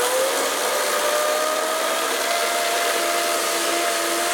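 A chainsaw cuts a piece of wood, giving a loud, steady, high-pitched whine that runs unbroken and close for the whole stretch, with no talking.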